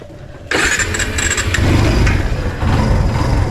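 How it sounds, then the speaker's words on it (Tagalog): A tricycle engine starts abruptly after a short quiet moment, then idles with a rough, steady mechanical chug and rattling, loud and close, warming up. "pinapainit ko muna itong makina ng ating tricycle mga kautol"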